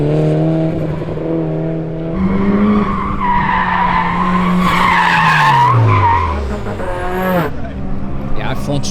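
Car tires skidding and squealing through hard turns during an autocross run at a race event, with loud sliding squeals that bend in pitch over the engine note.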